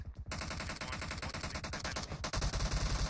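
Rapid gunfire from a PUBG Mobile fight between two squads, dense bursts of automatic shots running continuously with a brief gap, then heavier, louder shots near the end, with no talking.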